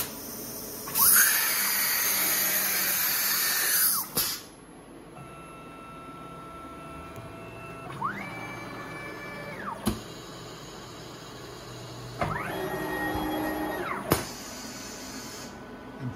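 An Avid CNC router's automatic tool changer cycles through a hiss of air as the piston lifts, then several rising and falling spindle whines separated by clunks and mechanical knocks in a workshop.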